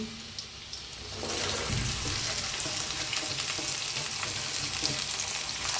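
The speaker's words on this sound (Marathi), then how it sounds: "आता भेंडी सगळी टाकली ह्याच्यात कढाईत। आता त्याला मिक्स करून छान अशी भाजून घेऊया आपण भेंडी।" Sliced okra drops into a kadai with roasted garlic and settles into a loud, continuous frying sizzle with scraping stir sounds. It starts quieter and swells after the first second.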